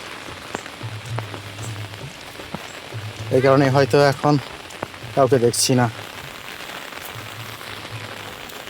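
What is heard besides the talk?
rain falling in a village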